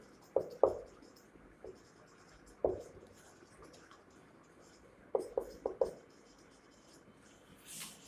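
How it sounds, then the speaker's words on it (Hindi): Pen or marker strokes on a board come in short scratchy bursts of two or three strokes with quiet pauses between, close and fairly faint, with no talking. "यहां वाला मैं इधर लिख देती हूं"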